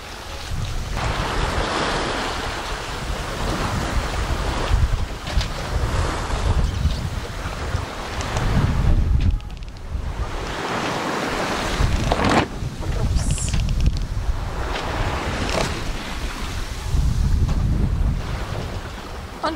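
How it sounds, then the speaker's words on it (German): Rough seas slap and surge around a sailboat crossing in about 30 knots of wind against the current, with heavy wind buffeting the microphone and recurring loud crashes of waves over a constant roaring rush. "Die Wellen türmen sich teilweise ziemlich auf, macht es fast ein bisschen unruhig hier die Überfahrt"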